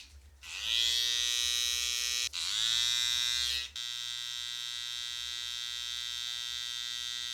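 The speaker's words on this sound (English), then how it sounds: "now that we debulked, we're gonna use our trimmers" An electric hair trimmer buzzes loudly near the mic, cutting out briefly and restarting, then settles into a quieter steady hum for the rest.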